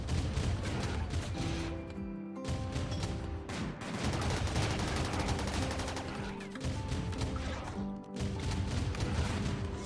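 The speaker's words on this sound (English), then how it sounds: "I'll do the autocannon turrets" RimWorld autocannon turrets fire in continuous rapid volleys, a dense, loud and steady barrage of overlapping shots with brief dips in intensity.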